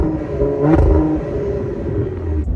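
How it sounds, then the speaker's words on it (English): The V6 exhaust of a Cadillac CT5-V rumbles, then swells in a quick rev and settles back into a throaty growl, loud and close. "And the exhaust sounds good too."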